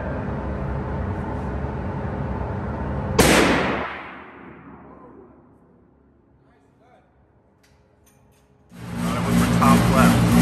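A single loud gunshot at an outdoor shooting range, with a sharp blast and a decaying echo trailing off over a few seconds, set between stretches of people talking.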